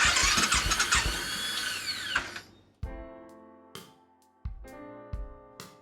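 A 2010 Royal Enfield Bullet with a flat battery cranks, whirring strongly at first and then slowing down, followed by a few short, weak starter attempts that fail to catch.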